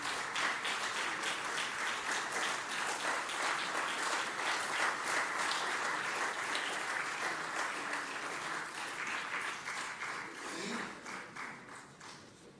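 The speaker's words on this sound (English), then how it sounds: "And we may have a huge round of applause." Audience applause at a university signing ceremony on international education, a long, even patter of many hands clapping at moderate distance that thins out and fades toward the end.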